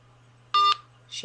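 Phone tones on a speakerphone after the other party hangs up: a single short electronic beep, followed by a faint trailing tone and the start of a voice.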